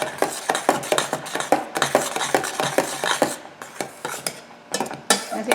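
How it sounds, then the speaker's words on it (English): A spoon scrapes and knocks steadily through thick flax seed tortilla dough in a pan on the stove, making a quick, regular rhythm of close clinks and scrapes that slows near the end. "keep stirring until it is lump free and it forms into a very nice dough"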